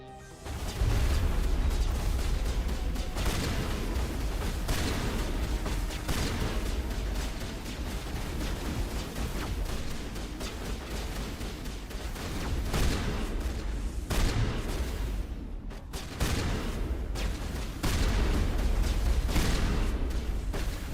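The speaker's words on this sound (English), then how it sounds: "Look at how stupid this shotgun is." Shotgun fire in the video game Mass Effect 1, a sustained barrage of loud, dense blasts and battle noise that runs almost without pause, with brief dips before the firing surges again.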